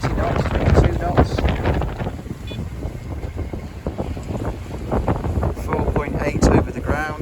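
Strong following wind of about 20 to 22 knots while sailing off the coast of Sardinia in a mistral, buffeting a close microphone in a continuous rushing roar with gusts, and a voice speaking over it.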